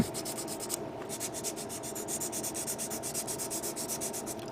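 A plastic part from a 1/72 Bandai Mailes Kenbu model kit is sanded by hand with 600 grit sandpaper, giving quick, even back-and-forth scratching strokes, close and fairly quiet, with a brief pause near the start.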